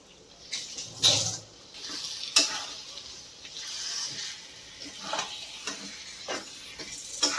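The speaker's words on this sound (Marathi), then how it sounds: "आता आपण याच्यामध्ये मॅरिनेट केलेली कोळंबी घालूया आणि याला चांगलं मिक्स करून घेऊया" Marinated prawns being stirred into hot, oily masala in a pan, a soft continuous sizzle with repeated scraping strokes of the spoon, fairly close and steady.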